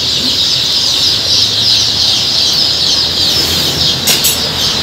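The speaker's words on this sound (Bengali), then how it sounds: "ফার্মি মুরগির বাচ্চা।" A crowd of Fayoumi chicks at a poultry farm chirps continuously, a dense, loud high-pitched cheeping wash with a brief flutter near the end.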